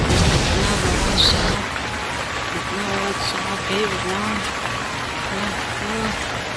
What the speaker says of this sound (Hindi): ये अचानक से बारिश का मौसम क्यों बन रहा है?